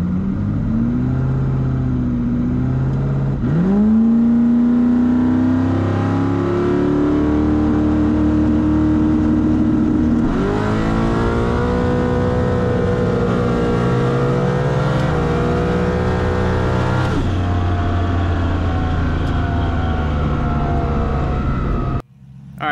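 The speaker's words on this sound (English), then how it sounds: "listen to the engine. You can hear how long first gear is." Car engine heard from inside the cabin, pulling hard through a long first gear with a rising rev pitch, then climbing again after each upshift, loud and steady until an abrupt cutoff at the end.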